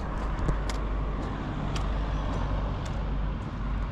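Road traffic passes in town at Vrútky, Slovakia, a steady low rumble of cars and heavier vehicles with a few faint high clicks and hisses, moderately distant.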